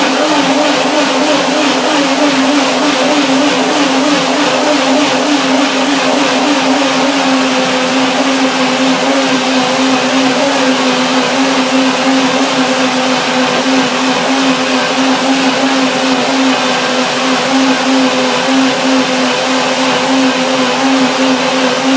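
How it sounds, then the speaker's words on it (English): Ripe, very soft persimmons whir in a blender for about twenty seconds as a loud, steady motor drone, close up and without speech. "if they are ripe and very soft, I can blend them like I do now"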